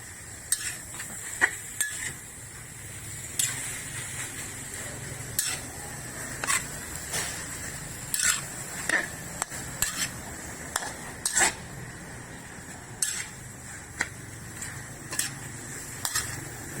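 Metal utensil scraping and clanking against a steel wok while stir-frying morning glory with crispy pork, at an irregular, busy rhythm over a soft sizzle, close up with no talking.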